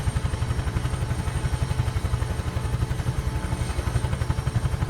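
A UH-1H Huey helicopter engine in Microsoft Flight Simulator, throttled back to idle, gives a steady low rhythmic chop and clatter with a pulsing beat throughout, heard alone and fairly loud.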